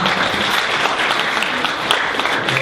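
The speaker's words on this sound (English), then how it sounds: "one more round of applause for Heliocity" Loud, dense applause from an audience for team Heliocity at a judged presentation, a steady, unbroken wash of clapping lasting throughout.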